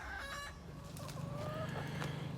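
Chickens cluck and chatter nearby at moderate volume, making several short, bright calls over a low, steady background hum.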